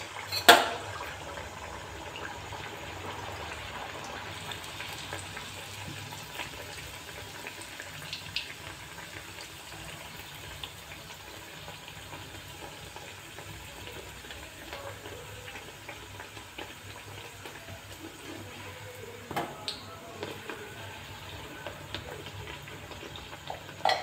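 Puris dropped one by one into hot oil, a soft steady sizzle and bubbling that runs quietly throughout, with a few faint clinks and knocks scattered over it.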